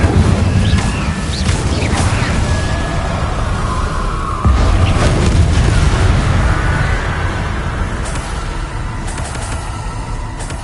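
A Bombarda spell blast in the video game Hogwarts Legacy, a loud, dense booming rumble that fills the clip with a sharp burst near the middle, and no talk.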